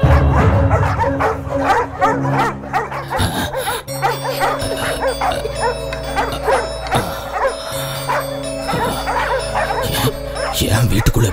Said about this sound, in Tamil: ஏன் வீட்டுக்குள்ள எப்படி நாய் வந்தது?